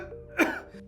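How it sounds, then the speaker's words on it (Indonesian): An elderly woman gives one short, close cough in a quiet room, a single rough burst with no talk around it. "Ibu cuman batuk sedikit"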